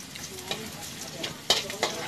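Lots of garlic frying in a pan until brown, a soft steady sizzle with a few sharp clicks and scrapes, fairly quiet and close.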